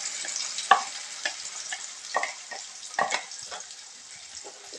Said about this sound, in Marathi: आपण टोमॅटो आणि कांद्याची पेस्ट जी केलेली आहे ती तेलामध्ये घालून घेऊया